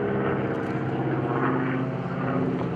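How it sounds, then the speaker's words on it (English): A vintage airplane with a 600 horsepower radial engine drones past at an airshow, a steady throbbing propeller roar that swells slightly mid-pass, heard without talk. "Not the least little bit of a sputter from that 600 horsepower radial engine, Bill."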